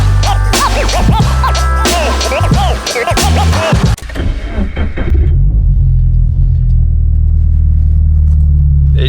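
A 2JZ-swapped BMW Z4 drift car roars loudly with a rough, rising engine note and scraping sounds at first, then settles into a deep, steady rumble heard close up.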